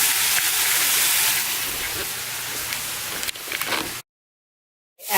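Tomatoes sizzling in a pan with Trinidadian pastelle meat filling, a loud steady hiss that fades after a few seconds into brief silence before the sizzle returns.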